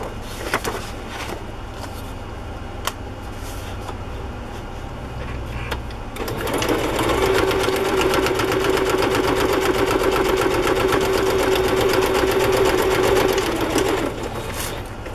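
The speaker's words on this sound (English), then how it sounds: "take this and this and just sew them onto the edge here" A sewing machine stitches pieces onto the edge of a handmade garden binder journal, starting after a quiet stretch of handling and then running steadily with a fast, even mechanical rattle, close and loud.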